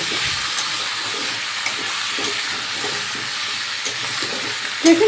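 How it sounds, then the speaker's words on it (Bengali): Chicken stew with papaya, carrot, potato and beans being stirred in a pot, a steady hiss of simmering with soft stirring scrapes, close and even, ending on a brief clatter. "নেড়ে নেব"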